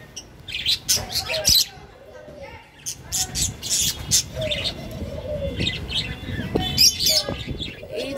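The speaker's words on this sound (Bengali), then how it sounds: "বাজিগাররা যখন এরকম শব্দ করে হালকা হালকা তখন অনেক বেশি ভালো লাগে" Pet budgerigars chirp softly in short bursts of tweets and warbles, fairly close, with talking over much of it.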